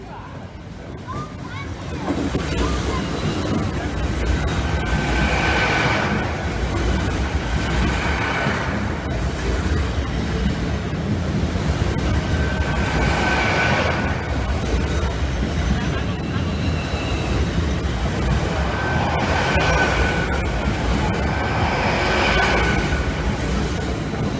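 A passenger train on an East Coast Main Line diversion via Lincoln rumbles past at a level crossing, a steady loud roar of wheels and carriages lasting the whole stretch, with faint voices in the background.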